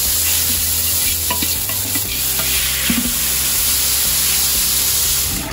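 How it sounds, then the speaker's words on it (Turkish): Chopped beef suet melts and fries in a pot for kavurma, a continuous loud hiss and sizzle with occasional stirring scrapes and clinks near the microphone. "Önce yağ eriyecek, kızaracak."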